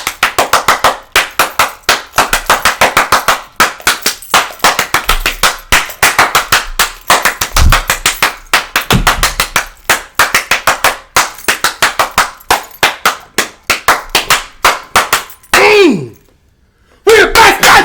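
Continuous rapid hand clapping, loud and close, a long dense run of sharp claps with occasional voices and whoops breaking in, ending in a brief pause before clapping resumes.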